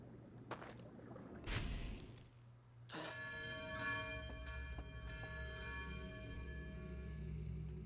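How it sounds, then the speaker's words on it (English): A bell in the Outer Wilds video game strikes once with a sharp clang, then rings on with a long, sustained metallic shimmer that slowly fades over a low ambient hum. "Interesting that rang the bell that time."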